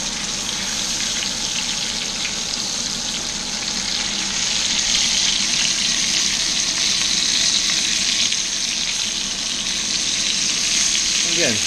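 Korean short ribs sizzle and fry steadily in a hot pan while browning in their rendered fat, a dense continuous crackle that stays loud for the whole stretch.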